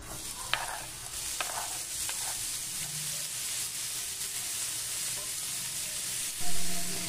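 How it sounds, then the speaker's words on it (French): Finely chopped onion sizzles and fries in vegetable oil in a pan over high heat, a steady close hiss with occasional stirring scrapes and a brief louder burst near the end. "J'ai mis ma poêle sur feu élevé, je rajoute de l'huile végétale"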